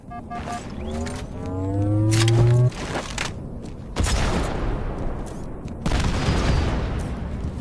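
Grenade explosions and gunfire in Halo 2 Anniversary multiplayer on the Stonetown map, with several loud booming blasts layered over vehicle whine and chaotic battle noise.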